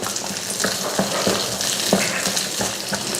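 Sliced shallots, garlic and ginger sautéing in a pan, a dense continuous sizzle broken by regular scrapes and taps of a spatula against the pan, close and fairly loud.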